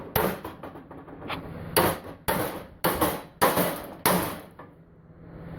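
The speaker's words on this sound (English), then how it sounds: "Now, I'll smack it with a hammer." A hammer smacks a fresh weld on a lawn tractor trailer, with about six loud close metallic blows at a steady, slightly uneven rhythm, each ringing briefly before the next.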